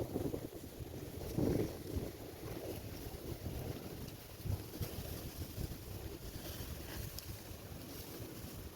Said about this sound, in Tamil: இந்த வருஷம் கொள்ளை காற்று பேய் காற்று அடிக்குதுங்க